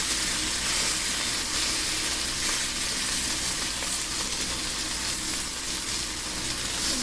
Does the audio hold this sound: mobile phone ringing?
no